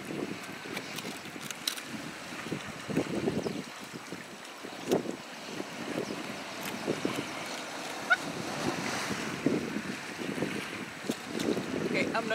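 Ocean waves wash and surge steadily against the shore under strong wind buffeting the microphone, with a continuous rushing roar and no talking.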